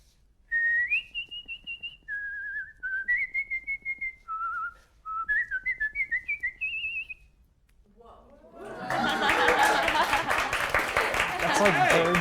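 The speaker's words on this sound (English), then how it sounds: "I have like this secret whistling talent" A person whistles a bright, wandering tune of held notes and quick trills for about seven seconds, alone and close, then an audience bursts into loud applause and cheering at a live dating game show.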